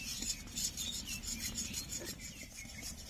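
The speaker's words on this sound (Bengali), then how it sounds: "এবার সুজিগুলো অল্প অল্প করে দেব আর অনবরত নাড়তে থাকবো," Semolina is stirred continuously in a pan for rasmalai, a close, steady scraping and rasping of the spoon in quick repeated strokes, with no voices.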